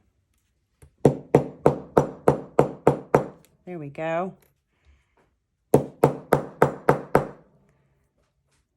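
Two quick runs of sharp, evenly spaced taps from a small hammer, about eight then six strikes, with a brief spoken remark between them.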